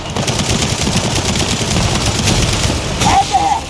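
Dense, continuous automatic gunfire from a Gears of War 4 firefight, loud and rapid, with overlapping bursts from close by throughout and voices talking over the shooting.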